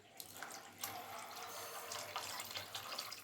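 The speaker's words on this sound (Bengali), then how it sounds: "সেই মাপ করে আমি চার কুনকে জল আমি দিয়ে দিচ্ছি" Water pours steadily into a pot of rice and lentils for Bengali bhuni khichuri, making a continuous close splashing gush with small bursts, with no talking.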